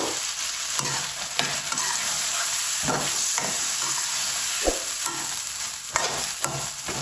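Peas and carrots sauté in a pan, with a loud continuous sizzle and frequent clattering strokes of a stirring spoon, close up and without talk.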